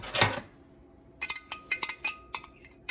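A utensil stirring poke ingredients such as green onions in a bowl gives one soft scrape, then a run of quick light clinks and taps against the dish, close and fairly quiet.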